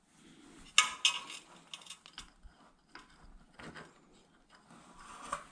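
Metallic clicks, ratcheting and clinks come from brake caliper bolts being unscrewed on a Lifan KP200 motorcycle, with a few sharp taps among quieter tool handling, close by.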